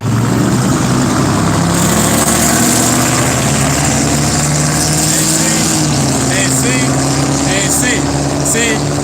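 A lifted truck's loud engine idles and rumbles steadily for several seconds, a heavy low drone with faint chirping sounds above it and no speech.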